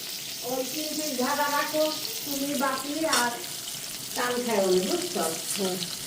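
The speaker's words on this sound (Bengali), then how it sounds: "এই যে মাছ ভাজতেছে" Fish frying in a pan at home, a steady close hiss of hot oil running under voices that talk throughout.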